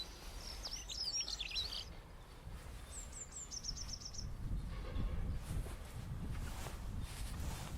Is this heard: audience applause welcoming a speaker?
no